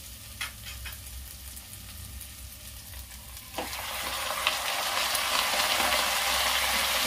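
Chicken tipped into a pan of onions that have been browning for a few minutes, a soft steady sizzle that swells into a louder, brighter frying hiss once the meat goes in, with a few stirring clicks.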